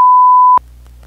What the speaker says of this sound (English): Wait, why did you beep that?